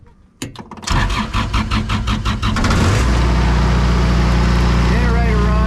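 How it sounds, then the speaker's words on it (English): A motorhome generator cranks over several rapid turns, catches and settles into a loud, steady running drone, close by, with a person speaking over it. "Okay, generator runs."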